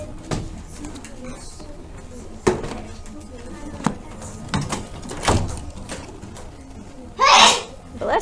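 A single sneeze bursts out amid scattered knocks and thumps and some nearby bird cooing, fairly close and brief.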